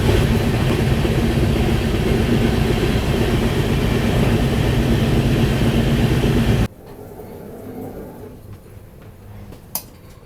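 A Jammu Tawi Express rumbles past with a loud, dense roar of wheels and carriages for several seconds, then cuts abruptly to quieter ambient noise with a single sharp knock near the end.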